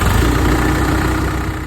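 A tractor engine with a faulty starter runs steadily at idle, a loud, low, continuous rumble close by with no voices.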